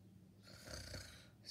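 A voice imitates snoring during a children's bedtime story reading, a single soft, breathy snore drawn out over about a second.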